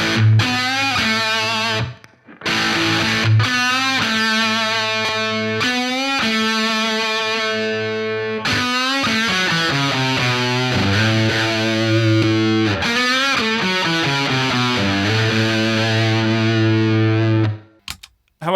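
Electric guitar played through a Boss DS-1 distortion pedal, an original 1979 unit set against the Waza Craft version, giving thick, buzzing sustained chords and ringing notes with brief gaps, loud and close with no talking.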